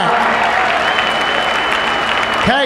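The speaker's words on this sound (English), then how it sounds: "He's going to get a nice hand from the crowd here as John Campbell brings Cash Hall back." Harness-racing crowd at a trotting track gives a standing ovation for a trotter: dense, loud, continuous clapping and crowd noise throughout, with a brief rising whistle-like tone near the end.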